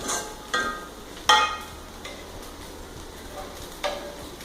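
Green chilli for prawn biriyani frying and being stirred in a pan: a low steady sizzle punctuated by a few sharp metallic scrapes and clinks of the spoon, close and without talk.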